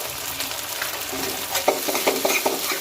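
Onions sauté with ginger garlic paste in a pan for dal tadka, a soft close sizzle joined by brisk scraping stirs of a spatula that grow louder and quicken in the second half.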